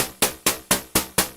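A budget groovebox plays a metallic hi-hat sound, six evenly spaced hits, each a sharp clangy attack that rings out briefly like struck metal, close and loud with no talking.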